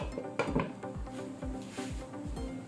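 A metal lid set down on a cooking pot while vegetables cook, with a few sharp clinks and clanks close by, the light knocks scattered over a couple of seconds.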